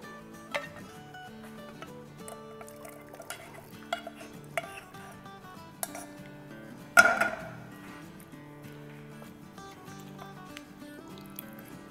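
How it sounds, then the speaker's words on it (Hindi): Round chillies and tomato pressed through a metal strainer with a spoon in a kitchen: scattered light clinks and scrapes of metal on metal at an irregular pace, with one sharper clatter midway, over a quiet hum and faint background music. "गोल वाली जो मिर्चें हैं उसको हम दबा लेंगे इसमें स्ट्रेनर में से"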